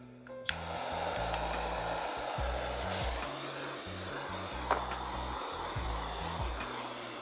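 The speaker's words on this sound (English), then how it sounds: "in order to loosen the edges, I'm gonna use a torch." Kitchen torch warming a mold to loosen the edges of a frozen marquise dessert, giving a steady, soft hissing roar that runs throughout with a couple of brief clicks.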